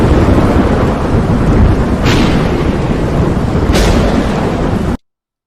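A thunderstorm roars with a dense, loud rumble of rain and wind, broken by two sharp thunder cracks, before cutting abruptly to silence.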